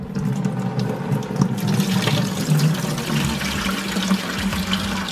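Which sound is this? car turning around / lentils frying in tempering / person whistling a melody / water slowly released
water slowly released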